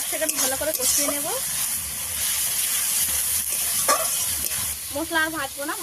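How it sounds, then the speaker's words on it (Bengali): Ground spice paste for a homemade country chicken curry sizzles loudly in a pan while being stirred, a close continuous fry with scraping strokes, and a voice talks briefly at the start and end. "মশলা আর ভাজবো না, ভালোভাবে ভাজা হয়ে গেছে"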